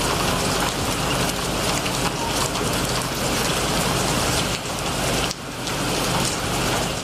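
Heavy rain pours steadily and loudly as a dense, unbroken hiss, close and continuous, with only a brief dip near the end.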